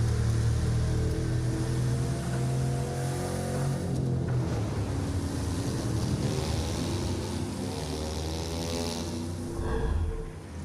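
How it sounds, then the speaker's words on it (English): A boat engine drones across open ocean in a Ubisoft game trailer, loud and rolling with wave wash and wind buffeting, shifting pitch in the middle before a splash-like surge near the end. "Tame, unpredictable waves on the open ocean, rapid waters"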